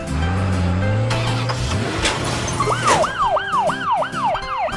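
A cartoon green ambulance's siren wails up and down in quick repeated swoops, loud and near, after a revving car engine and a swelling rush of sound.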